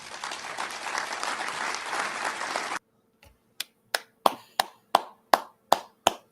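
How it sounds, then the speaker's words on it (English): A golf clap: after a few seconds of dense crowd applause, a single pair of hands claps slowly and sparsely, about nine crisp, evenly spaced claps ringing out alone. "Golf clap."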